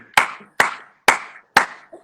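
A single person claps hands four times in slow, evenly spaced, close, crisp strikes to congratulate someone, with silence between each clap and no talking.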